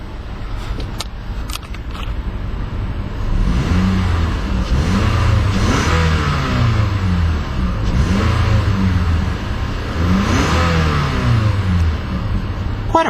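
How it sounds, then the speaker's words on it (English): A 2012 Toyota Camry LE's small 4-cylinder engine revs several times from idle, each rise and fall distinct and close, rising to a perky whine before settling back down. "let's rev up that little 4-cylinder engine and see what kind of soundtrack it produces"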